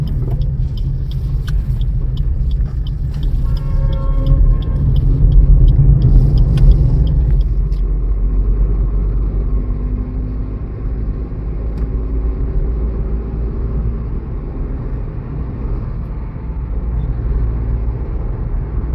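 Car driving along a single-lane state highway, its steady road rumble and engine drone continuous and close throughout, slightly louder in the first few seconds with some brief higher tones.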